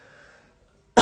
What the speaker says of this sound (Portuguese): Vou precisar tossir